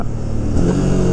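A Honda CBR 300R motorcycle with its stock exhaust revs loudly and close by. The engine roars dense and steady and rises slightly partway through, with no talk over it.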